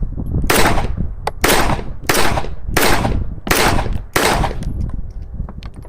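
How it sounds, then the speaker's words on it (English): An Auto Ordnance 1911A1 pistol fires six loud, sharp gunshots outdoors, spaced roughly evenly about a second apart, each with a short echoing tail. "All right, getting ready to fire. Finger on the trigger."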